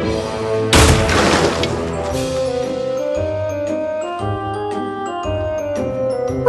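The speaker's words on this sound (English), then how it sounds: "Stop firing the cannon!" A toy cannon fires a loud booming blast early, then rings into sustained tonal music with a few more thuds underneath.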